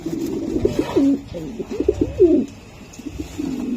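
Racing pigeons coo repeatedly at close range, their throaty, wavering calls overlapping in a steady stream over light background noise.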